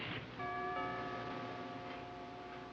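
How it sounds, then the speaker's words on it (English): A doorbell chimes once with a sustained ringing tone that slowly fades, heard at moderate distance over a steady background hum. "No, I'll ring the bell."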